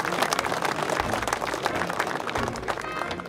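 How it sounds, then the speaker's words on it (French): Crowd applause after a wild boar driven hunt, honouring the beaters and their dogs; dense, steady clapping from many hands, sustained and fairly loud throughout with no talk over it. "vous pouvez les applaudir."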